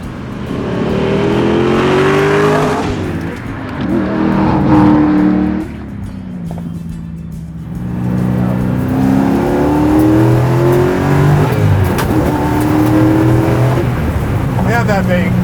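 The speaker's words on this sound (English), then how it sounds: "Man, that makes a gnarly pop when you shift at the top of it." A track-prepped 650 hp C6 Corvette Z06 on slick tires roars loudly through repeated rising acceleration runs, with engine pitch sweeping up and dropping sharply at each shift, close and powerful throughout.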